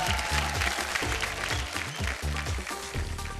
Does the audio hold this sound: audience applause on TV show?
yes